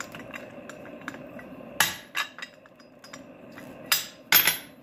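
Hammer blows on hot steel while forging a square tenon for a coal rake, a few sharp metallic ringing strikes spaced irregularly over light background clinks, moderately loud.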